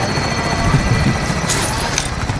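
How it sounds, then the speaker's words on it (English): Helicopter in the Warzone Plunder video game, a steady rotor drone sitting under game noise, with a couple of brighter bursts near the end. "it's helicopter."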